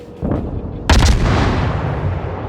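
Naval artillery fire from a battleship battle in World of Warships: a heavy boom bursts in near 0.9 s and rolls into a long rumbling decay, over a steady background of game sound.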